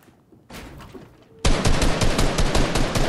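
Rapid gunfire in the video game Fortnite, a burst of loud, closely spaced shots erupting after a quieter stretch and continuing densely to the end with no talk.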